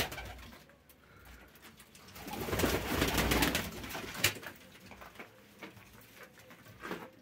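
Soft, low cooing mixes with fluttering and scattered patter from a group of Van pigeons nearby, swelling in the middle before settling down.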